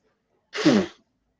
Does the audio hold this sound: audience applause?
no